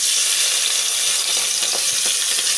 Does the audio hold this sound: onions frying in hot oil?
yes